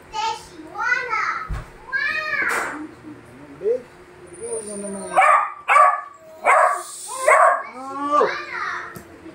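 A dog barks repeatedly in short, yelping bursts close by, with excited voices and someone talking in between.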